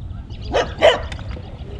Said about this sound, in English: Hey, puppy dog.